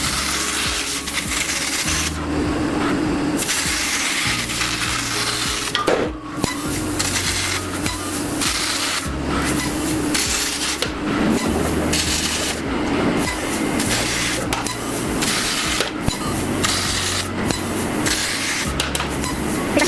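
A laser tube cutting machine slices through a steel I-beam with a steady, loud mechanical rush and hiss. Rhythmic rubbing and grinding pulses repeat throughout, and there is one sharp knock near the middle.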